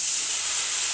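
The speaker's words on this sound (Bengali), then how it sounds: "জল অ্যাড করে দিলাম।" Hot pan hissing with steam as water goes in for a raw-mango mourola fish curry, a loud, close, continuous brief burst of bright hiss.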